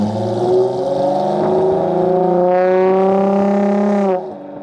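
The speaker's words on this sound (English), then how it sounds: "you have this massive dual tip exhaust. I think they are 4 inches wide, and they make a very nice growl." A 2013 Audi A7 with a wide dual-tip exhaust gives a deep, loud growl that rises steadily in pitch as the engine revs, then drops off at the end.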